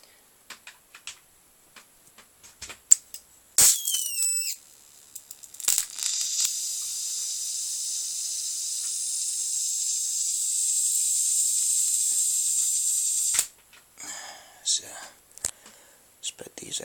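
A CRT monitor's flyback transformer running, heard as a steady high-pitched hiss and whine that holds for about ten seconds. Scattered clicks and small handling noises come before and after it.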